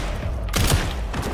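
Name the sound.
gunfire in a video game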